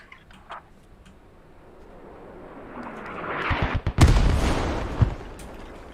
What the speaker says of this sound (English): Artillery strike coming in, guys.